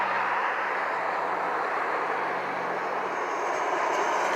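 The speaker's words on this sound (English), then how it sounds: "The plane is coming, y'all." A low-flying airplane coming in to land near an airport gives a steady, loud engine roar with a broad rushing tone that holds throughout without any talking.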